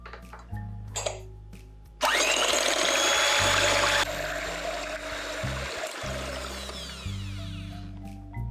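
An electric mixer whisks egg, milk and butter for bacon and maple syrup pancakes, a loud steady whirring drone that starts abruptly and runs for about six seconds, with faint clatter before it.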